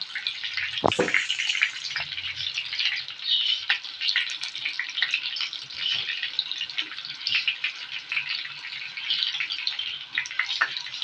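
Skinless longganisa sausage frying in a pan, a steady close hiss and crackle of sizzling oil with occasional sharper pops and scrapes.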